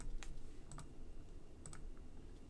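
A few crisp computer mouse clicks in quick pairs, close and quiet, over a faint room hum with no talking.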